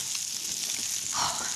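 Steady sizzling of diced chorizo frying in hot chicken fat and oil for paella, a continuous crackly hiss with a slight swell near the end.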